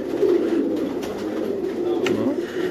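Domestic pigeons at a Karachi loft coo in a steady low murmur that runs throughout, with a brief higher bird call near the end.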